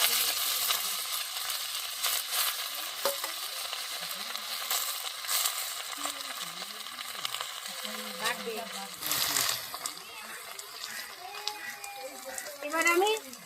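Washed water lily flowers fry in a pan with a continuous crackling sizzle, joined by intermittent stirring scrapes while someone talks over it.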